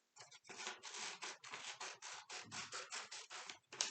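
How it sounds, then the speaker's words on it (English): Scissors snipping through paper for a snowman craft cutout, a close, steady run of about a dozen rapid crisp cuts, each blade closure a short rustly snap in a regular rhythm, with no talk. "I like to hold my paper in one hand and then have my scissors in the other."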